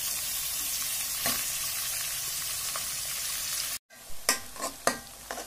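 Pieces of farm-raised chicken fry in a pan with a steady close sizzle, then a short pause gives way to stirring scrapes over the crackling oil.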